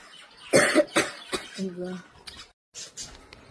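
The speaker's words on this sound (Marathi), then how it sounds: "खोकला आलाय." A person coughs several times in short harsh bursts, close to the microphone, followed by a brief voiced throat sound and quieter breathing.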